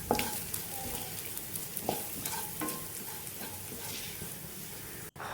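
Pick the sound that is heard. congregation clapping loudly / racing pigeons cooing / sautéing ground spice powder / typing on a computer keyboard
sautéing ground spice powder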